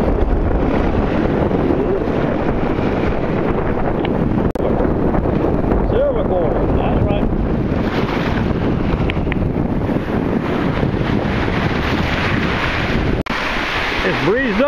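Wind gusting at the shore as the tide comes in, a loud continuous rushing roar buffeting the microphone, with surf noise underneath.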